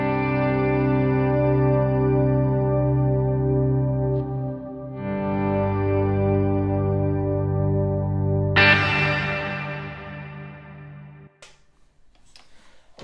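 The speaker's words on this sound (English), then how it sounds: "normally if I'm doing some kind of swelly sound, so we'll have a reverb there" A clean electric guitar chord rings with heavy, shimmering reverb, swelling and sustaining, then a brighter strum blooms and fades into a long washy tail.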